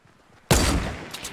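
A sudden loud burst of Fortnite gunfire cracks out after a quiet moment, then trails into a decaying rumble with a smaller shot near the end.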